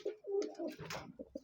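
Pigeons coo in a loft housing blue satin and white feather-footed lakha pigeons, with short, close, soft throaty coos repeating over about a second and a half.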